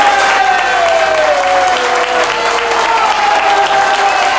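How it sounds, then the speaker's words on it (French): A studio audience on a Christmas special game show applauds two participants, a loud, continuous wall of clapping with a voice or tone gliding faintly underneath. "Un grand applaudissement pour ces deux participants, mesdames et messieurs."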